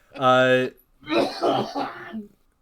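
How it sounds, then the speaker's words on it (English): A single harsh, throaty cough or throat-clearing burst up close, followed by someone talking. "I'm coughing because I'm not feeling too bad, man."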